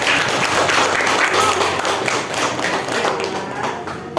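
A room of students claps together after a group presentation, steady dense applause holding at the same loudness all the way through with no talk over it.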